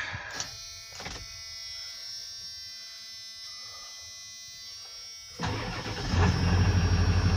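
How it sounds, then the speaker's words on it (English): A high-mileage Ford truck with a water leak inside the cab cranks with a whirring starter whine, then catches and fires up into a louder, steady running engine. "Of course it fires right up."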